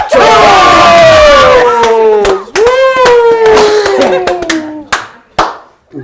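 A small group cheers and claps for a winner at a live New Year's countdown gathering, with loud whoops and drawn-out yells over scattered clapping that break into shorter shouts toward the end.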